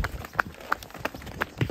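Hooves of a cow on a mountain path at Mount Telomoyo, a handful of irregular walking steps, fairly close and moderately loud, with no talking over them.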